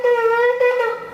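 A shofar blast with a short added tutu flourish at the end, a loud, near, steady brassy horn tone lasting about a second and wavering slightly before fading.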